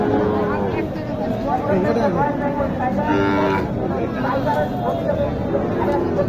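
Cows moo loudly and repeatedly over the busy murmur of a crowd at a cattle market in Naogaon, Bangladesh, with people talking nearby throughout.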